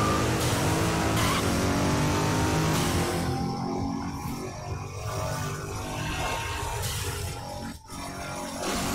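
A race car skids and screeches with engine roar in Midnight Club 3 Dub Edition Remix, loud and continuous, the tire squeal easing midway before building again, with no talk.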